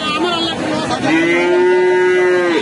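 A crossbred cow lets out a long, loud moo, close by, with a low crowd murmur behind it at a cattle market in Pabna, Bangladesh.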